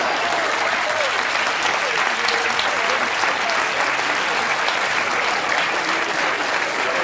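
Sustained, loud applause fills a magic and mentalism show as the audience claps steadily throughout, dense and continuous with faint crowd murmur underneath.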